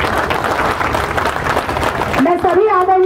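An audience at a Congress 'Save the Constitution' rally in Sector 2, Bokaro, claps in a dense, sustained burst of applause for about two seconds before a single voice rises over it near the end.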